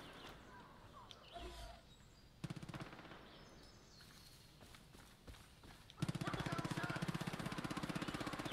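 Gunfire in Far Cry 5 comes as quiet, scattered single shots, then a rapid, evenly spaced automatic burst that rattles on steadily to the end, with faint voices in the background.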